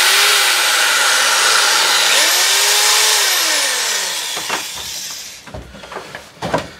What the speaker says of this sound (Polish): ta wiertarka, która posiada dwa biegi